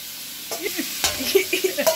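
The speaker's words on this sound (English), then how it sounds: "I just put my ground beef in the pan" Ground beef sizzles in a frying pan with a steady hiss, while stirring scrapes and clinks sound intermittently close by.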